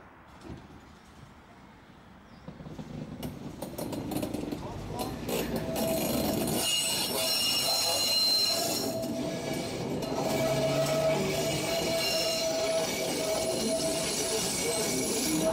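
A HÉV suburban train pulls into Pest Erzsébet felső station at night, rumbling louder as it nears, with wheel squeal and bright metallic tones, while a person talks over the noise.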